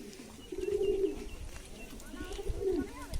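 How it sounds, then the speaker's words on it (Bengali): Pigeons coo in low, throaty, rolling calls, two clear phrases against a soft background rustle, close and moderately quiet. "ভয়তে কবুতরগুলো এদিক ওদিক করছে"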